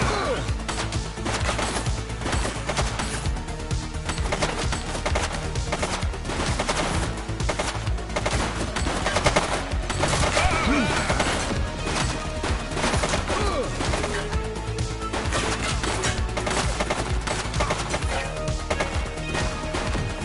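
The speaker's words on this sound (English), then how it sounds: "He's shooting!" A suspect fires a gun in the video game The Precinct, with dense, sustained rapid shots and heavy clatter lasting the whole stretch, loud and close.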